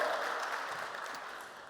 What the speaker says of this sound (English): let's give one more round of applause for Sophie and Invisibobble